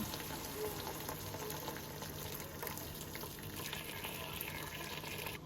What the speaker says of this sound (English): Now I'm gonna add water here as much as I required